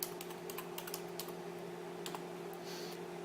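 A name is typed on a computer keyboard in a quiet room, a quick run of light, close key clicks in short bursts over a faint steady hum.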